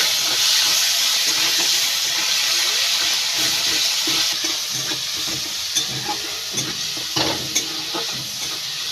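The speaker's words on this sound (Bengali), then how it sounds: "এইবার কেটে রাখা টমেটো দিয়ে দেব। টমেটো ভালো করে ভেজে নেব।" Chopped tomatoes frying in caramelised sugar and oil give a loud, dense hiss and sizzle that holds steady throughout, with occasional spoon knocks and stirring scrapes close by.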